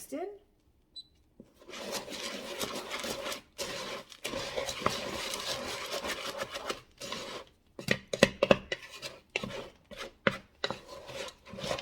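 Cereal being stirred and scraped into melted marshmallow in a pot for Christmas marshmallow cereal bars, with intermittent rubbing and clattering scrapes that grow choppier toward the end.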